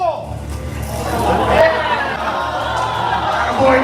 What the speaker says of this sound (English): Hand of applause for Paul.